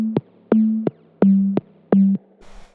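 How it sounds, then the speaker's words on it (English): Plain sine-wave tones from a Wasp synthesizer with ring modulation switched off: five short, loud, buzzy notes in an even rhythm, each with a sharp click at its start and end, followed by a brief noisy burst. "These are just sine waves, and they're being ring modulated. If that's not on, it sounds like this."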